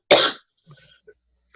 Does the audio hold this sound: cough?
yes